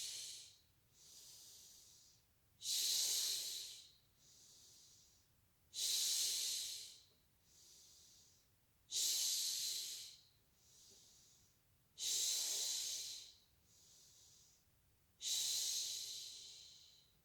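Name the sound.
deep breathing in and out during a yoga posture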